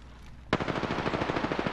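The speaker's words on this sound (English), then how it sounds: "Opening fire on the enemy" Rapid automatic gunfire in an Apex Legends style shooter, a Devotion with Turbocharger, bursting in sharply after a quiet half second and then rattling on in a fast, steady stream of shots, close and fairly loud.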